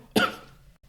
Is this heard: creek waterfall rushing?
no